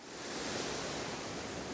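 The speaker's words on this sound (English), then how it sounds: "Today, the beck is in full flow, loads of water going over it." A waterfall on a beck in full flow, a dense steady roar of rushing water that fills the whole clip, close and constant, with no voices.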